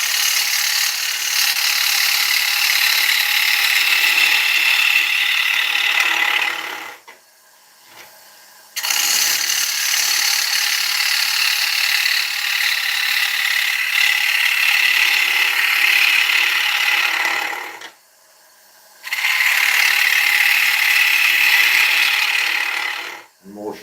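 A woodturning lathe tool hollows out a piece of green oak with a loud, continuous rasping scrape that stops briefly twice before resuming.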